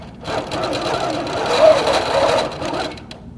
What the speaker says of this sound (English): okay, so we've started sewing